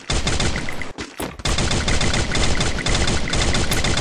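Dense, loud automatic gunfire from the Free Fire video game, rapid repeated shots filling the sound with a brief break near the start before the firing resumes steadily.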